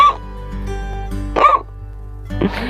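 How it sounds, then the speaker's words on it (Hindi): A big elephant's loud hiccup from a children's story, made of abrupt throaty gulping bursts over a low droning background, with no speech. "ये आवाज थी गप्पू सिंह हाथी की हिचकी की"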